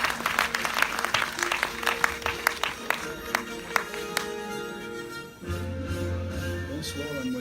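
Scattered hand claps ring out at a town council ceremony honoring a high-school graduate. The applause is sharp and intermittent at first, then thins and fades into low murmuring room noise.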